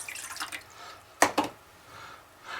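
Water is poured into a bowl holding soy sauce for a chicken marinade, a couple of short close splashes and trickles separated by quiet pauses.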